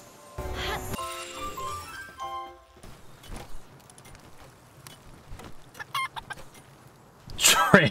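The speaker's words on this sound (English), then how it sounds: "A shiny chicken." A chicken clucks in the Palworld video game, short sharp calls scattered over game sounds, with a louder burst of clucking near the end.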